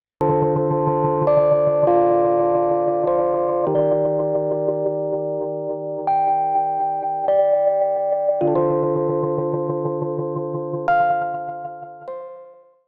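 Sustained synth chords pass through an Arturia Reverb Intensity effect whose rate is modulated by an envelope follower, the tail constantly shifting. Block chords change every second or two, loud and steady, fading out at the end.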